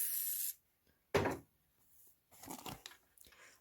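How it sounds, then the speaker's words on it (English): Brief hissing bursts from a spray can aimed at quilting fabric, a short puff at the start and a second quick spray, separated by quiet gaps and soft handling noises. "I'm just going to give it a little shot of spray."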